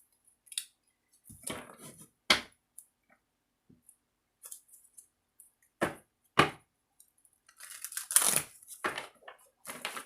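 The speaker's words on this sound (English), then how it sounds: "Shuffle a few times this way, and then we'll get some cards." Irregular bursts of papery flicking and riffling of a tarot deck being shuffled close by, separated by quiet gaps and ending in a longer flurry.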